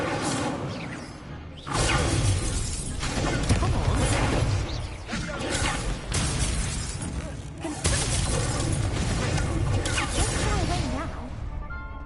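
An Incendio fire spell is cast in Hogwarts Legacy, bursting into loud crackling, whooshing flames with shattering impacts that repeat through a busy stretch of magical combat, with a voice briefly heard amid the clamor.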